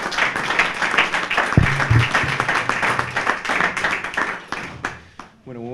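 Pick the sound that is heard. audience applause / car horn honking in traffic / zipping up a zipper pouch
audience applause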